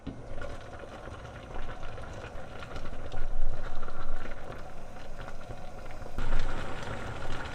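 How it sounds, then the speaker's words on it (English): Rice cakes simmering in sauce in a pan, giving a steady bubbling sizzle that swells and eases over several seconds, close and fairly loud, with no talking. "Simmer for another 3 to 4 minutes and that's it."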